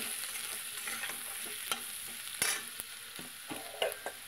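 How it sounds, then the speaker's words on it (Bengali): Onions and potatoes with salt and turmeric frying in a pan for a Bengali puti fish chochchori, under steady sizzling with a few sharp scrapes and clinks of stirring scattered throughout, close by. "এবার নুন হলুদ দিয়ে দেব, দিয়ে আরেকটু নেড়ে নেব।"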